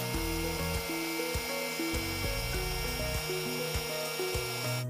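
A milling head on a saw carriage cuts a groove in wood, giving a continuous close grinding, rasping drone with a pulsing cutting rhythm throughout.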